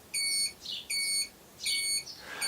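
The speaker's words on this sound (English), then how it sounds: "The beeping is a newer signal flasher I put on there" A newer dual 6/12 volt turn signal flasher on a Honda 400 cafe racer motorcycle with LED lights beeps in steady, shrill, evenly spaced pulses, three full beeps and the start of a fourth, close and clear.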